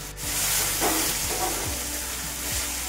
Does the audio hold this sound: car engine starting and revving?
no